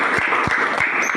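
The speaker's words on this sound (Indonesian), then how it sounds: "beri aplaus buat teman kita" A brief burst of classroom applause for a student, a dense patter of many hands clapping together at close range.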